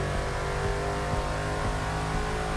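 A Ford GT with a 5.4-liter engine, bagged Gas Monkey Garage build in Forza Motorsport 6, revs steadily with a strong harmonic engine drone and slight pulsing, loud and close.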